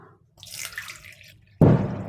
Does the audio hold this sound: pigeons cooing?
no